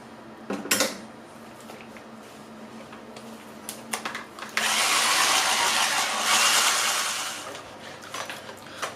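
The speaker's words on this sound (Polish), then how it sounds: "zaraz ją weźmiemy mikserem, wymieszamy" A hand mixer whirs through cheesecake batter with apple and pudding, starting after a few clinks of bowl and utensils and running steadily for several seconds before fading back to light clatter.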